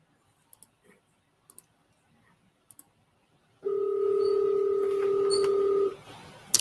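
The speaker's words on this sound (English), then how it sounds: "Calling him now." A single steady two-tone dial tone on a telephone line, loud and unbroken for about two seconds, after a few sparse soft clicks of keypad presses in near silence.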